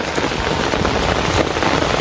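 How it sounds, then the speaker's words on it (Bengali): Heavy rain pours down in a village, a dense and steady hiss of drops drumming on surfaces, loud and unbroken throughout. "বৃষ্টির মধ্যে একদম জল আর ওই বিল বইরা গেছে গা"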